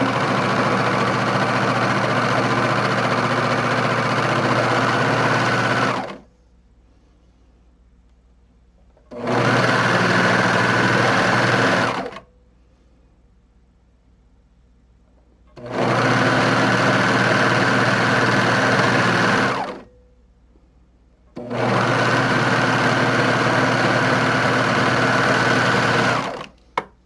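A sewing machine stitches a strip of T-shirt fabric in four loud, steady runs of several seconds each, separated by short quiet pauses.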